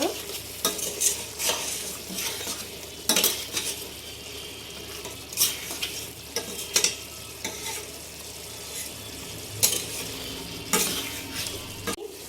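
Chicken stir-fried with biryani masala in a pan for chicken biryani, a steady sizzle under repeated scraping and clinking strokes of a metal spoon, close and fairly loud, with no talking.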